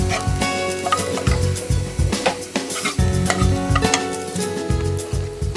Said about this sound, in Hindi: इसमें 2 कटे हुए प्याज डालते हैं। इसको हम पिंक करेंगे।